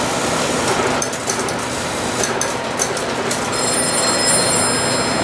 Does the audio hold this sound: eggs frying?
no